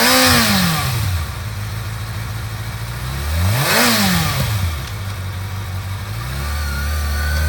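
A used 2012 Kawasaki ZX-6R supersport motorcycle engine is revved hard twice, each rising to a sharp high whine and falling back to a steady idle, loud and close with no talk.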